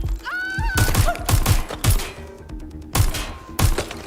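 Rapid bursts of video-game gunfire with heavy recoil, repeated close, loud thumping shots fired in quick uneven clusters over a busy game soundtrack.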